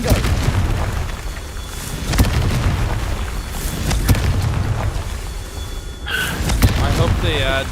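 A fiery Confringo blasting spell detonates in the Hogwarts Legacy video game, with loud booms and bursts layered over a dense, continuous wash of game effects and score, and voices mixed in.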